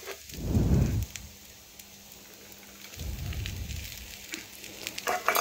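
Pre-fried pointed gourd pieces tipped into a hot pan hit with a sudden loud burst of sizzling, which eases into a quieter steady hiss before a second swell of frying noise.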